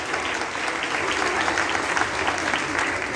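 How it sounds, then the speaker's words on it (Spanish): An audience at an outdoor government program launch gives strong applause for social development staff, a continuous, full roar of clapping holding steady from start to finish. "Fuerte aplauso, por favor, a todos nuestros compañeros de Desarrollo Social."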